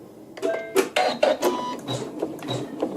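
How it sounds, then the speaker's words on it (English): Sewing machine slowly stitching a quilt seam, producing a few distinct close needle thumps and clicks at an uneven, halting pace. "my machine, is still stitching very slowly"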